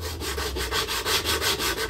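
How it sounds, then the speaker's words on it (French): Sandpaper rubs over wood in a close, quiet finishing pass. The short back-and-forth strokes repeat at a steady, quick rhythm. "un petit peu de ponçage pour faire de la finition"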